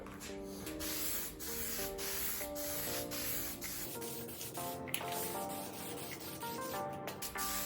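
Spray paint hissing steadily from an aerosol can as a coat goes onto a Traxxas Bandit VXL RC car part, a continuous close, loud spray with brief pauses and no talk.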